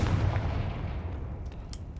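A loud, booming blast of the Confringo fire spell in Hogwarts Legacy, one heavy burst decaying into a rumbling tail with a few sharp crackles near the end, no voices.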